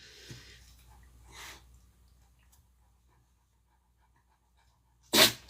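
After a few soft breaths and snuffles, a sudden sharp sneeze bursts out near the end, loud and close.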